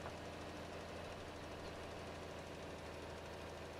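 An old tractor engine in Farming Simulator 22 runs steadily at a low, knocking idle, a constant mechanical rumble and vibration with no voices over it.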